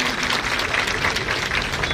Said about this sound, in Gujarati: આપને એમને જોરદાર તાળીઓથી અભિવાદન કરીશું